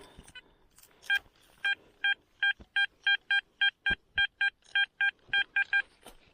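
Garrett Ace metal detector sounding a run of about twenty short, evenly spaced electronic beeps in quick rhythm, loud and clear against faint outdoor background during a treasure hunt.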